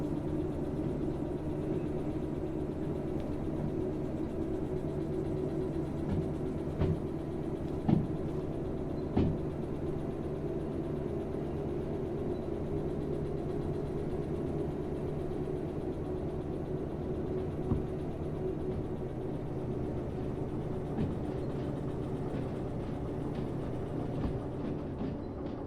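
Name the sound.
locomotive engine under power in the video game Derail Valley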